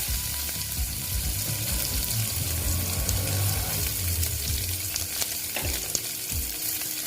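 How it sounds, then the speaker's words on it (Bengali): Onions and green chilies with black cumin seed tempering frying in hot oil in a pan, a steady loud sizzle filling the whole stretch, with scraping stir strokes and occasional clinks of a utensil near the end. "তারপরে দিচ্ছি দেখো পিঁয়াজ"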